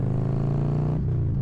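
Motorcycle engine running steadily up close, a low, even rumble with strong harmonic drone that dips in pitch briefly near the end, with no talk.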